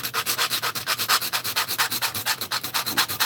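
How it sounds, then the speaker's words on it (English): 80 grit sandpaper sands a C1 widebody car model kit body in fast, even back-and-forth strokes, about six per second. The rasping is close and loud, with no talking. "I'm just going to start with my 80 grit sandpaper."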